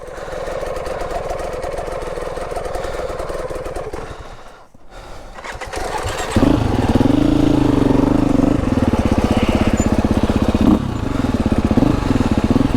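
A KTM 350 four-stroke dirt bike engine revs on a snowy trail, a close rough idle that swells into loud sustained revving with small dips between blips.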